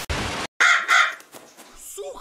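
In the horror game Paranormal Records, a crow lets out two loud, raspy caws right after a sharp noise burst, followed by quieter rustling and a voice talking faintly.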